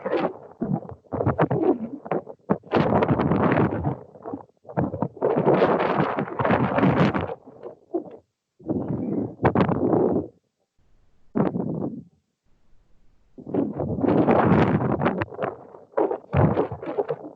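Gusty wind on a rooftop terrace roaring and buffeting the microphone in loud bursts, with brief quiet gaps between gusts.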